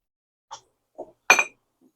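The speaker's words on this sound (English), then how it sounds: "just going to give this a bit of a stir" Clinks of a spoon stirring dried-seasoned food in a pot, three short separate touches, the last and loudest a bright metallic ring, close and alone.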